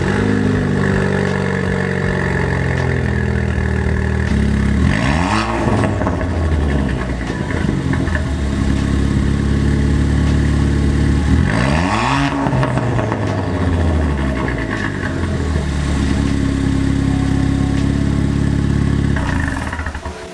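A rally-prepped Ford Fiesta ST engine idles through a new race exhaust, a loud steady drone broken by two sharp revs that climb and fall back to idle, close up with no talking.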